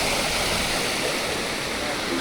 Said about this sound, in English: Sluicegate.